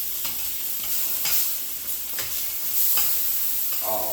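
Chicken frying in a pan with lemon juice, a loud, dense, steady sizzle with a few sharper spattering bursts spaced through it, close up and with no one talking.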